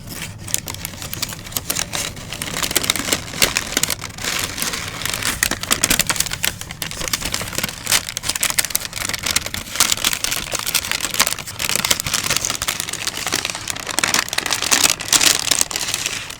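Tissue paper inside a New Balance shoe box crinkles and rustles steadily up close while being unfolded during an unboxing, with dense, continuous papery crackles and no talking.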